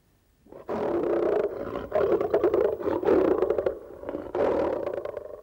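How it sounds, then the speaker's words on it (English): A lion roars loudly and close in a few long, rough bursts with short breaks between them, with no talking over it. "Is it time for the lion to roar?"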